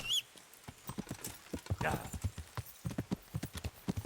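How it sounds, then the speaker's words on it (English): Horse hooves clip-clop at a riding pace in the video game Kingdom Come: Deliverance, a quick, even train of sharp hoof strikes that runs close and distinct throughout, with a brief whinny-like tone at the start. "Come on, horse, let's go."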